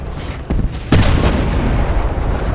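Tank gun fire in War Thunder, an ASU-57 engaging a Jagdpanzer IV: a softer shot, then a loud, close cannon boom with a sustained rumbling tail, with no talk over it.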